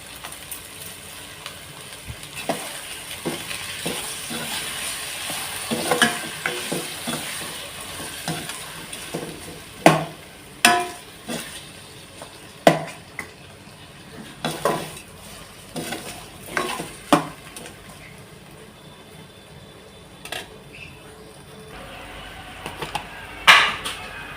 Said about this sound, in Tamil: தக்காளி நல்லா வதங்கிக்கிட்டு இருக்கு.